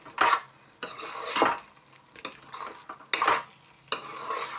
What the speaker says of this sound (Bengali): এখন ভালোভাবে মিশিয়ে নিচ্ছি।